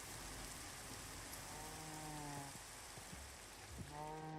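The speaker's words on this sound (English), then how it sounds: "And it's raining." Steady rain falls as an even hiss in the video game Minecraft with the GregTech mod, continuous and moderately loud, with faint repeating tonal chimes rising over it at intervals.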